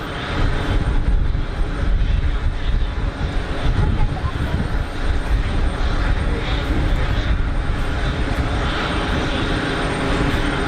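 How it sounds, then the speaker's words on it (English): A Pilatus PC-12 single-engine turboprop arriving at Geneva Airport, its steady propeller and engine roar loud and continuous over broad background noise. "A little PC-12 sneaking in. What a great little aircraft."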